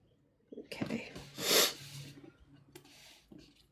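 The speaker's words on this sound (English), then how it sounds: "You guys can hear my sniffles starting again." A few close, wet sniffles and a sharp nasal snort, quiet and intermittent, with soft breathing between them.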